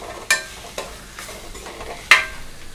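Beetroot sautéing in a pan for beetroot rice, a few distinct scraping stirs of the spatula, with a faint steady sizzle underneath and no voices.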